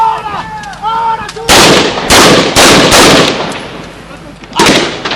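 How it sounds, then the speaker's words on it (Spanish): Loud bursts of gunfire and explosions crack out in repeated clusters during a police special operations rescue of a president, each blast sharp and close with decaying echo, preceded by wavering siren-like tones. "Ahora sí nos cayeron más bombas."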